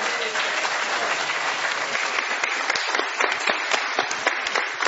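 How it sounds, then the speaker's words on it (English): Audience applause for the quiz winners at a professors-versus-students trivia contest, a dense sustained burst of many hands clapping that thins toward the end into sharper individual claps, with no talk over it. "Let me hear some applause for the Strange Quarks as winners."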